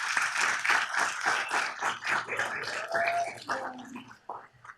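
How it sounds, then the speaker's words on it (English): Applause from the audience at a city council meeting, a rhythmic burst of many hands clapping that fades out toward the end, with a few voices murmuring underneath. "If we can please give a round of applause to Javier"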